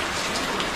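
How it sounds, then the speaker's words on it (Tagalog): Heavy, continuous rain falls during a stormy, windy day, a dense, steady hiss filling the whole moment with no break and no voices. "Pero yung panahon natin, walang tigil yung ulan."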